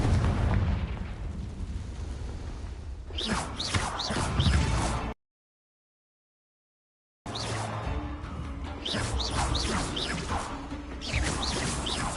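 Blasts from the Confringo fire spell in a Hogwarts Legacy-style wizarding video game: loud, booming explosive bursts with crackling debris, split by a short silent gap, continuing in a dense run of impacts.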